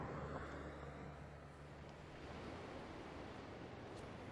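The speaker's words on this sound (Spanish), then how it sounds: "Y así bate el mar a esta hora" Sea waves break and wash against the rocky coast at Los Gigantes, Tenerife, a steady broadband roar with wind mixed in, heard alone and fairly faint.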